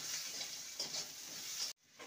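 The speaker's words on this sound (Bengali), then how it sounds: "আলুটাকে ভালো করে ভেজে নেব।" Potato pieces seasoned with turmeric and salt fry in a pan with a steady, close sizzle that holds throughout, cutting off abruptly near the end before resuming faintly.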